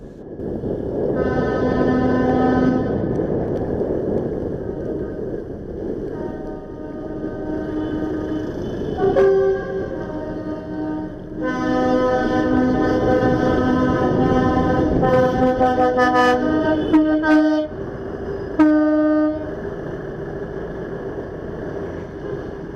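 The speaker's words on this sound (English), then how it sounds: "all the farmers seem to be having a whale of a time honking their horns" Loud, sustained tractor horns blare in overlapping tones, several sounding at once and swelling in long blasts, against a steady rumbling background, as farmers drive along London's South Bank.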